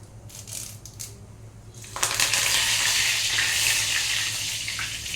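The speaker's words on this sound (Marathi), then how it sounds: "कढीपत्ता छान तळतळला आपला" Curry leaves with a little cumin hit hot oil in a pan with a sudden loud sizzle that keeps crackling steadily. A few light clinks come before it.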